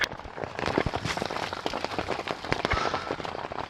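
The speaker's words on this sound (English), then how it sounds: "it's still raining" Dense, continuous patter of rain drumming on a thin taut surface close by, crackling and even with no pauses.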